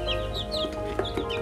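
Chickens in a coop with a rooster and Lohmann hens give a handful of short, faint clucks over a steady background hum.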